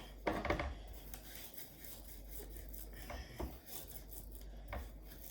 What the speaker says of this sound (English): So here it said new garlic press. I've never tried one of these before. I'll give it a little bash.